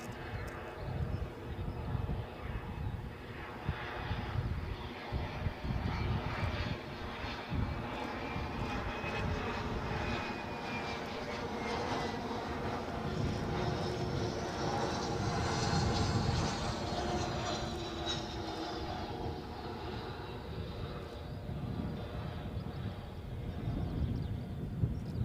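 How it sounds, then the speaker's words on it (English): An airplane lands at Edinburgh Airport. Its engine drone roars steadily for the whole stretch, rising and falling slightly, with some wind buffeting on the microphone and no voices. "You wouldn't have spilt a cup of tea during that landing"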